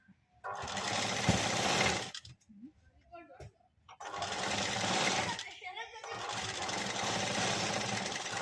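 Sewing machine stitching a dori fabric piece, a steady loud whir in two long runs separated by a short pause with handling noises.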